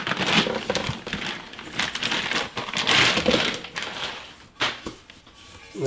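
A plastic bag wrapped around a boxed set of aftermarket exhaust headers for a Dodge 4.7 V8 crinkles and crackles as it is handled close by, in irregular bursts of rustling over about six seconds, with no talk.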